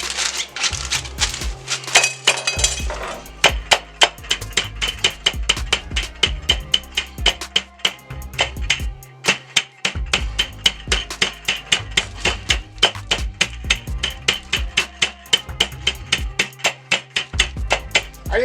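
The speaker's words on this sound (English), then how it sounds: "I didn't have one of those fancy meat tenderizing hammer, so I'm using a rolling pin." Rapid, heavy thuds of a rolling pin pounding pork tenderloin repeat in a steady rhythm, loud and close, with hardly any pauses.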